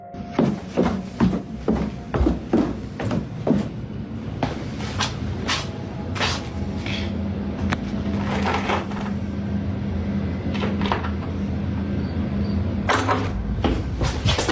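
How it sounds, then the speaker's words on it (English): A basement door handle is yanked repeatedly, producing a rapid series of sharp clattering knocks and rattles, loud and close, that give way to a steadier rumbling noise with scattered further clunks. "Behind one of the basement doors, something seems to move, and the door handle is yanked."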